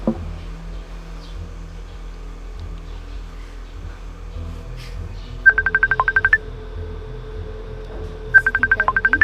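A phone dials Abby with two bursts of rapid touch-tone beeps, close and clear over a quiet room hum, the first run longer and the second starting a few seconds later.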